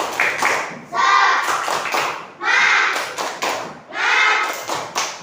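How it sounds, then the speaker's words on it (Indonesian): A group performs a rhythmic spirit clap (tepuk semangat) at an Indonesian teacher-training session, with bursts of clapping alternating with chanted group calls in a repeating pattern. "mari kita tepuk semangat dulu"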